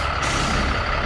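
A semi truck with trailer backs up in a CDL training yard, giving a loud, steady broadband rumble of engine and air noise throughout, with no one speaking.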